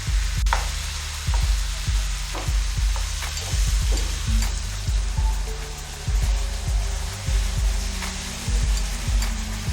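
Mushrooms and vegetables stir-frying in a pan over very high heat, a continuous crackling sizzle with repeated low knocks and scrapes as the food is tossed and stirred, close and fairly loud throughout.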